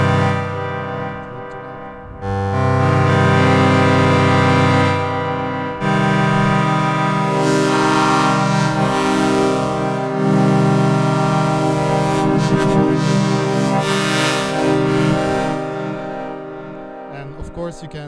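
A Percussa SSP wavetable oscillator, morphed in real time with a planar joystick, plays loud sustained synth tones rich in harmonics, with shifting timbre and several distinct held sections separated by brief breaks.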